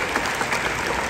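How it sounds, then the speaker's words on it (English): Crowd applause fills a high school graduation ceremony, a brief dense burst of many hands clapping at steady volume. "They do deserve a crowd of applause."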